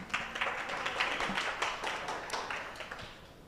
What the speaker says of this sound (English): Let us all give him a round of applause.